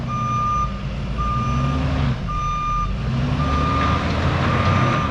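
Big truck backing up on a mountain track, its reversing alarm beeping in a steady repeated rhythm over the low rumble of the engine, with no talk.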